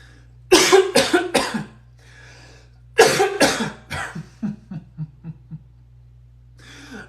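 A person coughs repeatedly, with a few sharp bursts, a pause, then another run of coughs tapering into softer, shorter hacks over a low steady hum.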